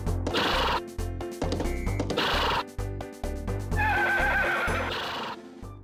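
A horse in Harvest Moon: Grand Bazaar whinnies loudly and repeatedly over a steady rhythmic game music loop, the neighs rising clearly above the backing track with no talking.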